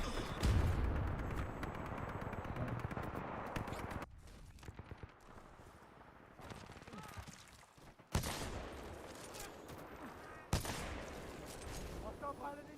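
Gunfire in the video game Titanfall 2, dense bursts of automatic fire and sharp shots rattling in loud waves with short lulls, game voices calling out between the volleys.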